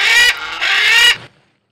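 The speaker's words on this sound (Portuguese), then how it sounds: "Som da arara." A macaw gives two loud, raspy squawks close by, a short gap between them, the second one longer before it cuts off into silence.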